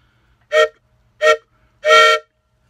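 Three short wailing train-whistle blasts, the last one longest, are imitated on a banjo band's whistle instrument, loud and close against near silence.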